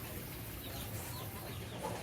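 A hen forages for food for her chicks, giving soft, faint clucks against a steady background hiss, no voices present.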